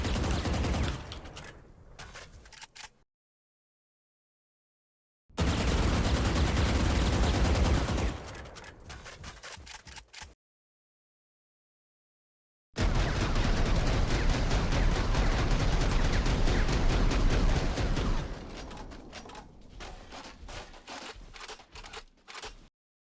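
Rapid-fire gunshots in the Valorant video game: three dense, loud bursts of rattling automatic fire separated by brief silences, the last burst longest and tapering off, with no other sound.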